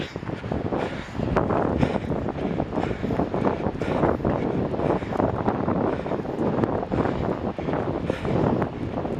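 Steady wind buffets the microphone during an outdoor run through a small park, a continuous broadband roar with gusty swells and no talking.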